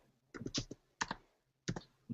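Someone types on a computer keyboard in short, quiet bursts of rapid key clicks, separated by brief pauses, in a quiet room.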